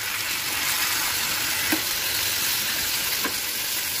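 Onions, spices and cashews sizzle and crackle in a hot pan, a constant frying hiss with a couple of soft stirring scrapes.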